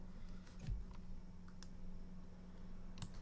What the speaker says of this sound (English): you can hear it on screen. Keyboard.